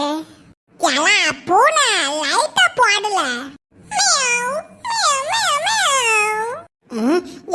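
Cartoon cat meowing in a run of long, wavering, high-pitched animated meows, several calls in a row with short gaps, loud and close, with no other sound around them.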